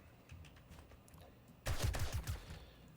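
Assault rifle fire in the survival game 7 Days to Die: a quiet stretch of low ambient rumble, then a loud burst of rapid shots, close and punchy, lasting about a second and a half.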